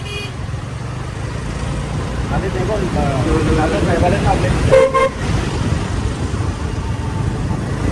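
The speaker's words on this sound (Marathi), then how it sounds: "बाराही महिन्याची ट्रॅफिक आहे इथं कायम" Busy road traffic rumbles nearby while a car horn honks briefly; people talk over the street noise.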